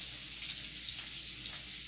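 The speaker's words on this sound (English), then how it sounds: "Obviously I'm frying this on a very low temperature." Meatballs frying in butter in a pan on very low heat, giving a soft, steady sizzle with faint crackles, quiet and close, with no talking.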